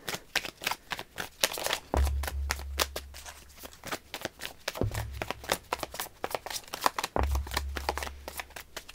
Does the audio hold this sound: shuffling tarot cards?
yes